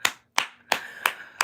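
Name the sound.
clapping hands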